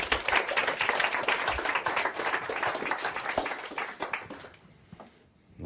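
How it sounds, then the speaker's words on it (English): An audience applauds a volunteer named Anita called up onstage at a mentalism show, a dense steady burst of clapping that fades out near the end. "Give Anita a big round of applause."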